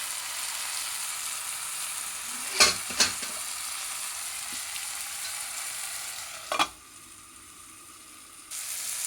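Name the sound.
frying with fenugreek powder under a lid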